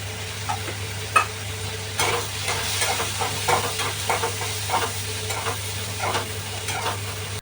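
Ground spice paste roasts in a pan for a black pea and bottle gourd curry. A spoon scrapes and stirs in repeated short strokes over a soft, continuous sizzle, close up with no talking.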